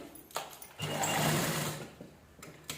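A sewing machine stitching leftover blouse fabric scraps, heard up close as a steady mechanical whir lasting over a second, with a few short clicks before and after it.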